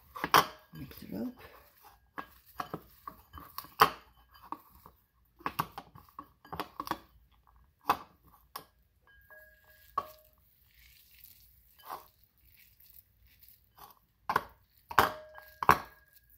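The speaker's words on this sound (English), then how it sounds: "mix it up" Patty ingredients mixed in a bowl, with irregular clinks and scrapes of a utensil against the bowl and soft stirring in between, close and fairly loud, alone without talk.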